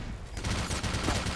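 Sniper gunfire in the video game Black Mesa, heard as a dense series of rapid, sharp shots. They repeat steadily over a short stretch with a continuous rumbling background and no talk.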